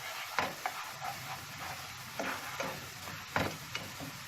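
Black pepper, chili flakes and cumin sizzle in hot oil for a lentil and bulgur pilaf, with a steady frying hiss broken by several sharp stirring scrapes.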